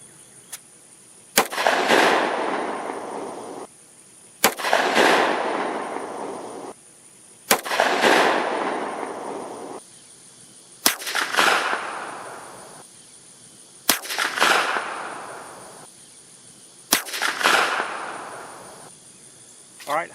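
A 9mm pistol fitted with a Griffin Armament Optimus suppressor fires six loud, muffled shots spaced a few seconds apart outdoors, each followed by a lingering echo that fades before the next.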